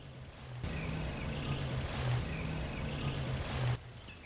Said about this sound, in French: C'est encore un bruit de moteur, ça.